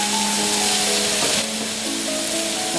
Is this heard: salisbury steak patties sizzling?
yes